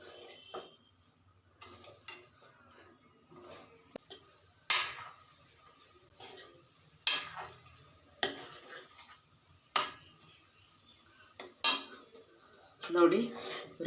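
A metal spoon stirring mango rice (chitranna) with grated coconut in a pan: intermittent scraping and clinking against the pan, with sharp taps every second or two, fairly faint and close, alongside a soft sizzle.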